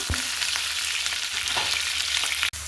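Garlic cloves frying in a pan, a dense continuous close sizzle with a few faint stirring taps and a brief dropout near the end.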